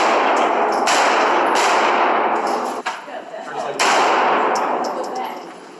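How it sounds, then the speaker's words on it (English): Gunshots fired during shooting practice, heard as loud sharp bursts, a couple standing out around one and four seconds, within a dense, continuous roar of broadband noise. "You get comfortable, then you can shoot."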